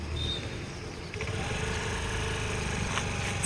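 A scooter engine hums steadily and close by on a riding lesson, a continuous buzzy drone with a slight change partway through and no clear speech.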